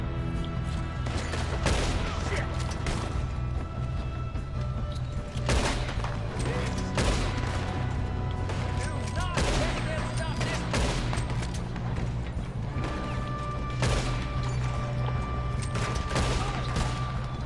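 Gunfire fills a Red Dead Redemption 2 shootout, with rapid repeated cracks and bursts from several guns over a steady rumbling background and talk woven through.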